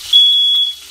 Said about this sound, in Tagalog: Yan yung narinig yung guys. Smoke detector namin.